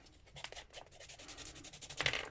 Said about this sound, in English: I recommend maybe giving it just a tiny bit of a sanding.